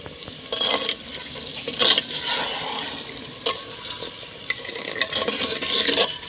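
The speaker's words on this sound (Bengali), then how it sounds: "আমি এই যে মশলা ধোয়া জলটা একটু দিয়ে দেবো আর জল দেবো না" Spice-rinse water splashes into a pot of handi chicken on the stove, followed by stirring and a steady low sizzle with scattered clinks of a utensil against the pot, close and moderately loud, no talking.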